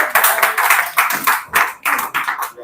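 An audience claps in a quick burst of brisk, uneven handclaps lasting a few seconds, fairly close and with no talk.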